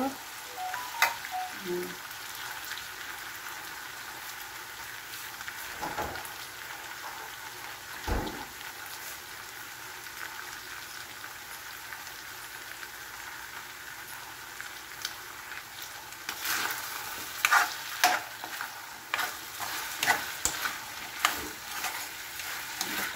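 Butter melting in a hot frying pan, a continuous crackling sizzle like light rain, with a few clinks and bumps and bursts of sharper spattering toward the end.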